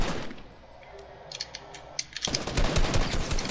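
Gunfire in a battle royale video game: a quiet stretch with a few sharp isolated shots, then a sudden dense burst of rapid automatic fire that keeps rattling to the end.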